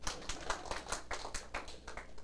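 Audience members at an indoor lecture clap their hands in a quick, faint, uneven patter of claps lasting a couple of seconds.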